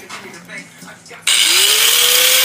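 A power cutting tool starts up on a clamped exhaust pipe of a 2001 Z71 truck. After a moment of quiet talk it bursts into a loud, steady whine that climbs in pitch as it spins up close by.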